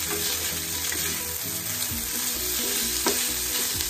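Fried rice toasting in butter in a pan sizzles in a steady, even hiss, with soft stirring scrapes and small pops, up close and alone.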